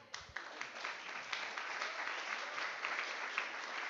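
A church congregation claps together in sustained, fairly faint applause lasting several seconds.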